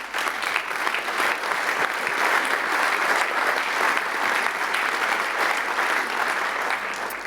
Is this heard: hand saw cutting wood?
no